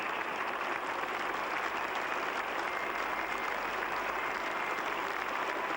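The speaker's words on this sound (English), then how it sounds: "now applauding him generously" Lord's crowd applauding West Indian opener Desmond Haynes after his 184 against England in a 1980 Test, a steady, dense wash of clapping from a large standing crowd that holds level throughout.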